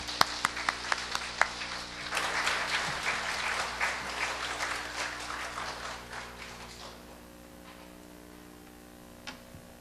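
An audience at a church mothers' prayer meeting applauds warmly to welcome an accountant to the stage, starting with sharp claps. The clapping is dense for about seven seconds, then fades to a few scattered claps over a low hum.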